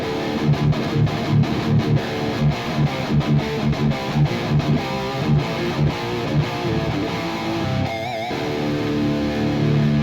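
A distorted electric guitar plays a rhythmic, chugging riff through a cheap multi-effects unit with gritty, saturated tone, briefly interrupted near the end before continuing.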